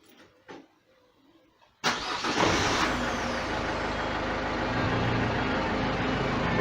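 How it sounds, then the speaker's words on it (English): A car engine cranks briefly and then catches, settling into a loud, steady idle that runs close and continuous after a few quiet seconds with faint clicks. "So we'll crank it over and we'll start it, and hopefully it'll go the right way."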